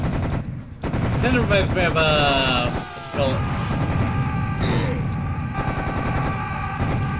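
Loud, continuous gunfire in Serious Sam The Second Encounter HD, battling in the dunes: rapid automatic bursts and booms with tonal game effects layered over them, while someone speaks underneath the din.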